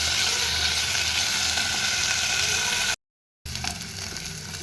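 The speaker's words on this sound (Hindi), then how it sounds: "पनीर को हल्का गोल्डन फ्राई करके भाजी नेबा।" Paneer sizzling as it fries to light golden in a pan, a steady hissing crackle that continues evenly, cuts out briefly, then resumes at a similar level.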